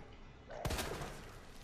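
A single sharp gunshot-like burst with a short rattling tail, fairly close, over a quiet background hiss, from the video game Resident Evil 2 Remake.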